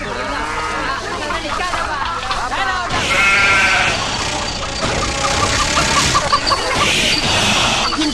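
Repeated bleats from a goat or sheep sound close and fairly loud, layered over a low idling engine hum and dramatic background sound.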